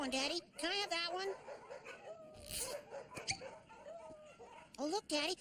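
Cartoon puppies yip, whimper and bark in a rapid, high-pitched jumble that fills the scene close up. Several short bursts overlap each other before a pause, then a final flurry.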